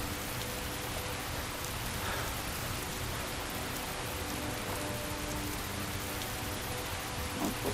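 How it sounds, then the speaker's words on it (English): Heavy rain pours in the video game Skyrim, a steady hissing downpour with faint drops, continuous and even from start to finish, with no speech. "And now it's raining."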